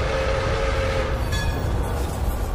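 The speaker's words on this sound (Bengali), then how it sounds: "সৈনিকটি চলে গেলে দূরে একটা ট্রেনের শব্দ শোনা গেল।" A train rumbles at a distance, a steady low roar with a brief faint horn-like tone, no voices.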